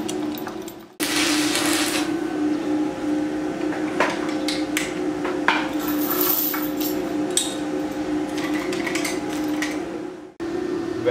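Welding on snow tyre chain links, a steady electric buzz with scattered crackles and sharp ticks, starting abruptly and cutting off near the end.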